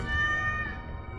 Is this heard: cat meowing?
yes